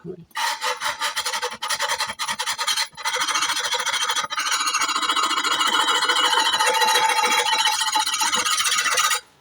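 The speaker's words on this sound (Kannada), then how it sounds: "ಇದಕ್ಕೂ ಹೀಗೆ ಮೇಲ್ಮುಖವಾಗಿ ಅರ ಹಾಕ್ಬೋದು" A metal file rasping along a blade edge to sharpen it, loud, harsh back-and-forth strokes close to the ear, rhythmic at first with brief pauses, then merging into a continuous grinding scrape.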